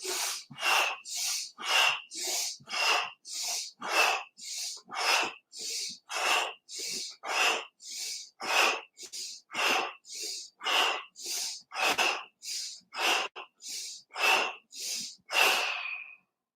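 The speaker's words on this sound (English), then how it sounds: "Let's do it together. Exhale 14 times." Rapid forceful exhales through the mouth in a breathing meditation, about two dozen loud, close breathy bursts in a steady rhythm, each sharp at the start and fading quickly, with no talk over them.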